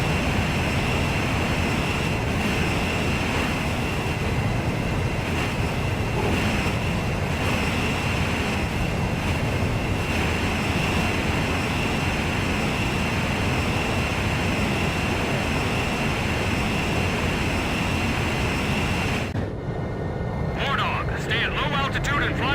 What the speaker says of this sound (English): Perfect, Blaze. Commencing refueling.